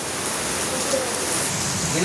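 Heavy rain pours down steadily at a family home, a dense, continuous hiss filling the whole stretch with no break, close and fairly loud.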